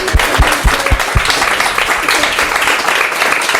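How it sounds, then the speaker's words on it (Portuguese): Audience applause for a man at a pastor's meeting, a brief burst of distinct claps at the start fading into a diffuse crowd murmur, moderately loud in a room. "Uma salva de palmas para ele."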